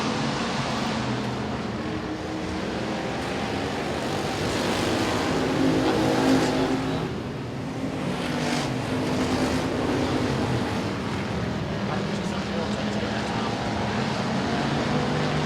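Race cars circling Boothill Speedway, a dirt-track night race, with a steady, dense engine roar from the field that swells and fades slightly as cars pass, heard from the stands with no talk.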